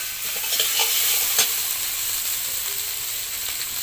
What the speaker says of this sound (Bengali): আবারও আমি কিছুক্ষণ নাড়াচাড়া করবো